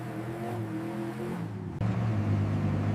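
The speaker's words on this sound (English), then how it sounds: "instantly shifting gears to unleash the full power of the newly rebuilt engine" A rebuilt Mad Max War Rig engine climbs through a rising rev, then surges louder and deeper after a sudden shift, its close, heavy roar filling the rest of the moment.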